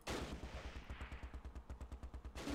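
Rapid machine-gun fire in the video game Close Combat Last Stand Arnhem, a fast even rattle of about twenty shots in a sustained burst, loud and close, trailing into a brief pause before more noise.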